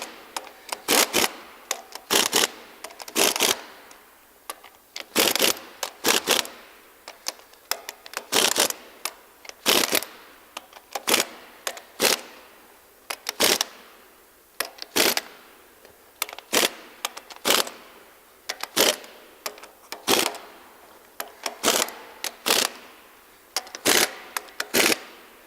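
A click-stop torque wrench set to 110 tightens cylinder head bolts in a circular pattern, giving a steady series of sharp, close wooden-sounding clicks and ratchet snaps about every second, with no talking.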